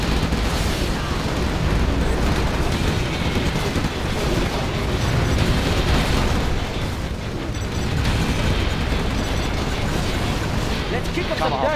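Cruise missile explosions in the video game Command & Conquer Generals Zero Hour, a dense, loud barrage of booming blasts and rumbling detonations running continuously with almost no pause, under game voice lines.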